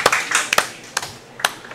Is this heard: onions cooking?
no